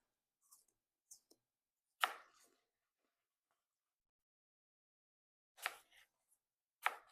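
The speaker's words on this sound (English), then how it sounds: "I cut off the two ends because nobody wants that much skin" A knife slices through an apple in a few sharp, quiet cuts: brief crisp crunches separated by silence, two early light clicks, then stronger single cuts spaced a few seconds apart.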